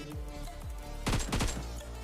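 Automatic gunfire in the mobile battle-royale game PUBG Mobile: a rapid burst of loud shots in the middle, over a steady game soundscape with background music, no talking.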